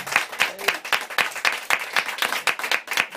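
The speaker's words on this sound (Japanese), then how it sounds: "今日の出演者にも皆さんに拍手をぜひ" At a small live music show, the audience claps for the performers in an uneven rhythm of distinct, fairly close claps with a few cheers, steady throughout.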